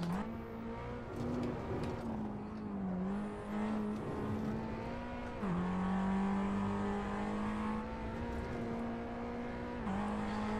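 A Renault Clio Cup race car in the Assetto Corsa game is held at full throttle around Thruxton, giving a loud, sustained engine drone with brief dips in pitch that climb back up.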